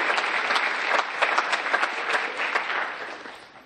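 A school audience in Hot Springs claps in a steady, lively round of applause at an event, close and continuous with scattered sharper claps throughout.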